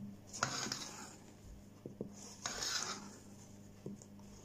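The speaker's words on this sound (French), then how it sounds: "J'ai rajouté le reste des blancs d'œufs. Je continue à bien mélanger tout en soulevant" Batter for a chocolate roll cake being gently folded with a spoon or spatula after the last egg whites go in, giving soft scraping strokes and a couple of light clinks against the bowl, close and quiet with no talk.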